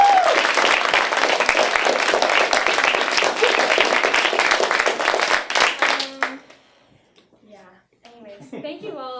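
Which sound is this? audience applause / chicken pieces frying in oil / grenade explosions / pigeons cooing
audience applause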